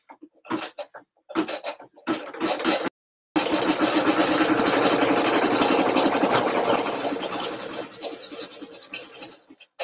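A machine embroidery unit stitches a bunny design with a steady, dense mechanical whir that runs continuously for most of the stretch, after a few short stop-start bursts and a brief pause near the beginning.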